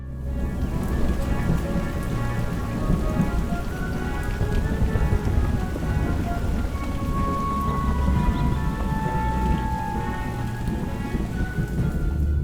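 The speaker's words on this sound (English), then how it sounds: "It's raining down on him. It's thunder." Steady, heavy rain falls in a thunderstorm, with dense, continuous patter and a low thunder rumble underneath. A tonal whine drifts faintly through the background.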